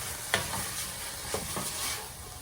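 Tomatoes and cilantro sizzle in a pot for two-bean turkey chili, a soft steady frying hiss with a few light scraping stirs, close and alone.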